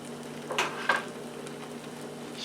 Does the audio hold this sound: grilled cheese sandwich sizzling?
yes